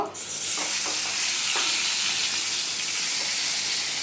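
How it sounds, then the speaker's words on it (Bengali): Two tangra fish frying in a pan for a fish curry, a steady hissing sizzle of hot oil running close and loud throughout with a few faint clinks of stirring. "আর দুটো মাছ ভেজে নেব"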